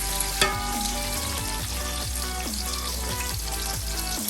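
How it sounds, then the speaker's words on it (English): Onions fry in a pan for a garden egg stew, a constant close sizzle and crackle with a sharp clink near the start and regular stirring strokes, with no speech. "I'll be putting the onions in here, all of them."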